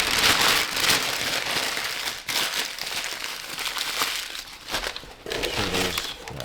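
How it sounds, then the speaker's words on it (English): Packaging crinkling as a boxed car part for a Celica is unwrapped, with bursts of crackly plastic or paper rustling that pause briefly and resume, close to the microphone. "Get this thing unwrapped."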